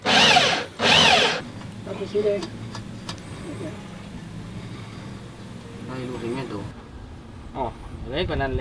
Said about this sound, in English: And now we have to drill a hole through the coaming